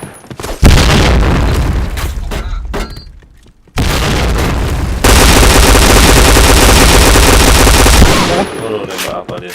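Video game gunfire and explosions: loud rapid bursts of automatic fire and heavy booms, a brief drop near the middle, then dense sustained shooting before trailing off.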